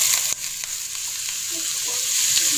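Carrots cook in a pan for sweet and sour shell pasta, producing a continuous even sizzle with a few light scrapes and clicks of stirring.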